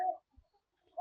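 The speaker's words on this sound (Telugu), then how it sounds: "ఇందులో పుంజు కోళ్ళు" Roosters at an egg farm give two short, fairly faint clucks, one at the start and one at the end, with near silence between them.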